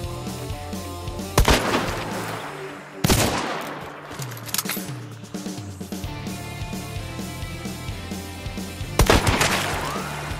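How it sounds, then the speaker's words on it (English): Sharp, loud gunfire cracks in Hunt: Showdown, a few distinct shots spaced several seconds apart, each with a ringing echo over a steady bed of game ambience. "That was a lucky headshot through the bush right there."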